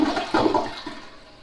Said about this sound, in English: now when the button is pressed, the water will flush